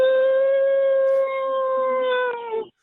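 A voice imitates a whale call on a radio call-in show, a single sustained, wavering howl-like tone that holds steady for over two seconds and then drops off.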